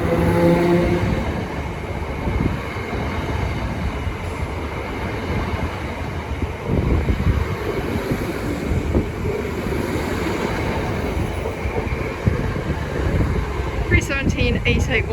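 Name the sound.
Greater Anglia passenger train departing Cambridge North station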